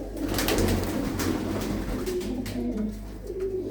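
Blue-footed pigeons in a loft coo in low, repeated murmurs over a busy rustle of wings and movement nearby.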